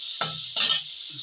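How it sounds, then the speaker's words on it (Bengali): Chopped onion being stirred in a pan while cooking spiced beef: two quick scraping strokes of a spoon against the metal, then a faint third touch, close and brief. "এবার আমি হালকা করে নেড়ে দেবো।"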